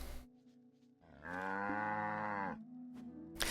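A cow in the video game Black Desert gives one long, loud, drawn-out moo, with quieter lowing before and after it.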